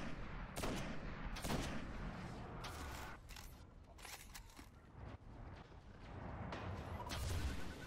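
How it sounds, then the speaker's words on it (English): Rocket launcher fire in the video game Destiny during the Crota's End raid, a run of loud booming blasts and bursts spaced irregularly, some overlapping, with game noise rumbling beneath. "That's why I be shooting extra rockets sometimes."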